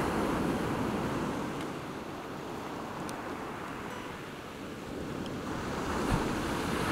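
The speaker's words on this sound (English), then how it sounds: "the water's just swamped the tripod leg" Shallow ocean surf washes around a camera tripod leg on the shore in a steady, unbroken rush of water under heavy wind noise on the microphone, with no voices.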